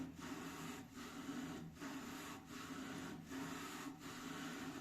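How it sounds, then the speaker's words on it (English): Steel lapping bar turned inside aluminum scope rings coated with lapping compound, a steady gritty rubbing with a rhythmic back-and-forth pattern of short breaks about every second, close and fairly quiet. "Just keep rotating it, do a little bit of a back and forth action."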